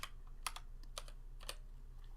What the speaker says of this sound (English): The sound of the board being more crisp